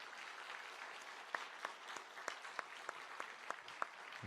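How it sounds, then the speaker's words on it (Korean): A church congregation applauding during a New Year's Sunday service, soft and distant, with a handful of sharper individual claps rising above a steady low patter. "우리 두 분에게 우리 뜨거운 박수 한번 하시죠."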